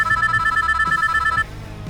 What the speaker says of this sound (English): Aiden's phone began to ring.